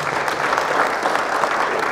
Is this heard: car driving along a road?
no